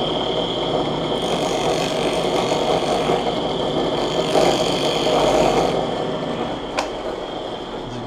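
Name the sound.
Safe-T-Planer planing an archtop guitar plate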